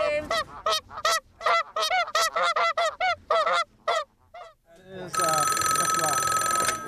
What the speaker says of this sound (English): Oh, pretty goose.